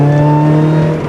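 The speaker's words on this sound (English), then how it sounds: "I like the supercharged noises" A supercharged car engine fitted with a Track Dog Racing belt tensioner holds a loud, close, steady high-revving drone with a strong humming pitch, alone and without talk.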